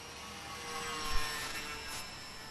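An XK DHC-2 A600 Beaver RC airplane flies outdoors in light wind, its thin electric motor whine steady and moderately distant against a windy hiss, swelling slightly as it passes.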